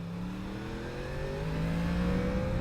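Yamaha MT10 motorcycle engine heard while riding, a steady, moderately quiet drone with a slowly rising pitch as the bike accelerates, with wind whir behind it and no talking.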